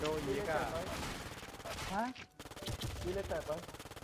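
Rapid bursts of automatic gunfire crackle through a shooter video game, loud and nearly continuous, while someone talks excitedly over the shots.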